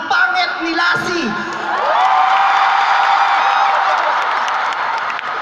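A comedy show audience at a business club's tenth anniversary event breaks into cheering, whooping and clapping, opening with scattered shouts and then settling into a steady roar of applause and cheers that continues to the end.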